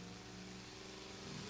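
Drag racing cars at a hot rod reunion rev at the line with a steady, distant engine drone that builds slightly at the end.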